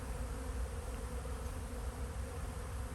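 A steady, low droning hum of many honey bees buzzing together at an apiary, constant and fairly faint, with no talking.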